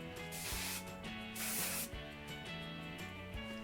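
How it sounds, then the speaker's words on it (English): Short hissing bursts of hairspray on teased hair for a 1960s bouffant, about three sprays separated by brief pauses, close up over soft background music. "Then we spray again."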